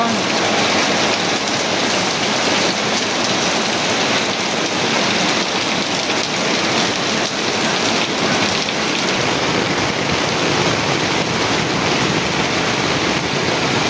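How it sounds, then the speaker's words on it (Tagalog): Heavy typhoon rain pours down in a dense, steady roar, hitting surfaces close by without letup for the whole stretch. "grabe ang lakas ng ulan"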